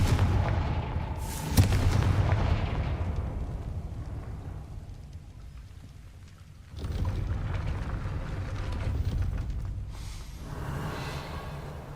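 A Confringo fire spell blasts in the Hogwarts Legacy game, a loud burst around two seconds followed by a rumbling decay, then a second swell of crackling, booming effects later on; no voices.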